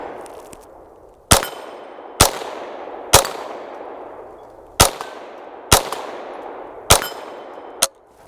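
A scoped Savage A22 Magnum rifle firing outdoors: seven loud, sharp cracks spaced about one second apart with a pause midway, each followed by a short ringing echo, and no voices.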